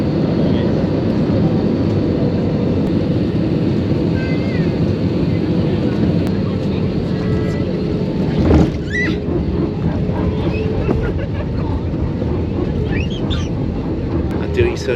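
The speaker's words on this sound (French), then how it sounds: "Atterrissage réussi, on est toujours vivant." Airliner landing at Lisbon: a loud, steady cabin roar of engines and airflow throughout, with a brief thump and clatter partway through as the wheels meet the runway.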